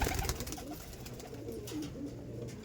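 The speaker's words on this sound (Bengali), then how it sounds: "দেখুন রেসিং নর আছে দেখুন" Racing cock pigeons in a loft give low, soft coos under a dense, continuous background of shuffling, rustling and scattered sharp noises, all fairly close.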